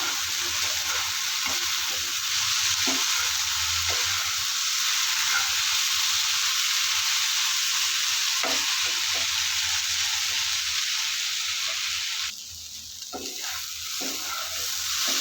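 Jute leaves and potato stir-fried together in a pan, a steady close sizzle with repeated spatula scrapes and stirring knocks, briefly dipping before resuming.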